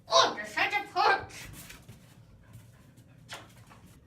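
A dog whimpers and pants up close, with a few high whiny bursts at first, then softer breathing and a brief whine later.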